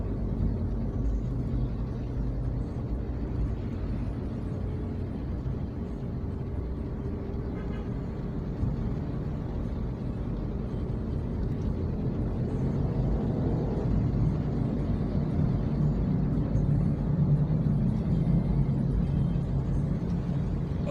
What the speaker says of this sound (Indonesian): Jalannya masih agak padat teman-teman, masih banyak kendaraan.